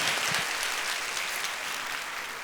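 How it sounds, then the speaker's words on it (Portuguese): Studio audience giving a strong round of applause for a guest, dense bright clapping that starts full and tapers slightly over a couple of seconds. "Um forte aplauso para o Wesley."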